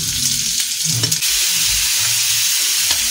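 Garlic, ginger, green chili and onion paste fry in hot oil with a steady, close sizzle, joined by brief stirring scrapes and a few louder pops.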